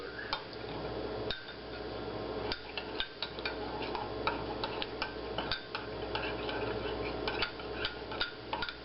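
Spoon stirring peach cobbler mix with canned peaches in their own juice inside a mug, steady light ticking clinks against the mug, close and continuous with no talking.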